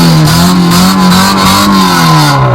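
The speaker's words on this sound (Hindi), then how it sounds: "ये इंजन का साउंड सुने जी।" A Honda Civic engine revs loudly up close, its pitch rising and falling in a sustained, throaty roar.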